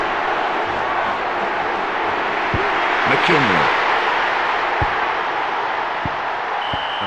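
Stadium crowd noise from the PlayStation football game FIFA Road to World Cup 98, a steady, dense roar of distant spectators that carries through the whole stretch while a commentator talks over it.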